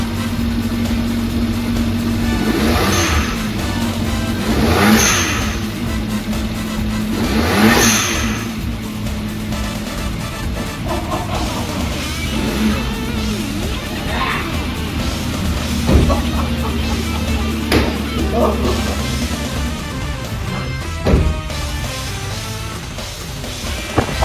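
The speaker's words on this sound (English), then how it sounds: "finally see what a tiny 650cc toaster sounds with a big blow-off valve" A tiny 650cc kei car engine revs repeatedly, several rising throttle bursts each ending in a bright hissing release from a big HKS blow-off valve, loud and close, with a few quieter revs toward the end.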